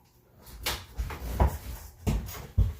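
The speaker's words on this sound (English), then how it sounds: "So let's kind of spray it and soak it in here." Several quick, close spritzes of cleaner from a trigger spray bottle inside a Burmese python's cage. The bursts fall in an uneven rhythm of about five, with faint rustling between them and no speech.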